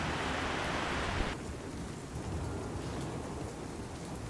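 A violent overnight thunderstorm lashes a glamping tent in Japan: loud, dense rain roars without pause, with a heavy thunder rumble blended in and the downpour easing slightly partway through.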